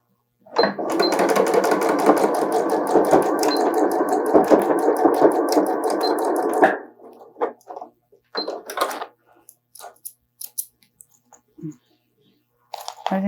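A sewing machine stitches patchwork fabric in a fast, steady whirring run of about six seconds, followed by scattered handling noises and brief clicks as the work is adjusted.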